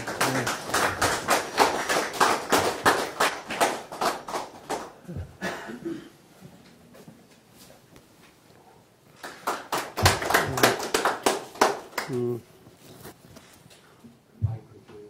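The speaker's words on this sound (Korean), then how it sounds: "뜨거운 박수로 맞이해 주시기 바랍니다" Audience members at a history lecture on Ganghwa Island applaud in two bursts of quick, crisp handclaps, fairly faint and separated by a quieter lull.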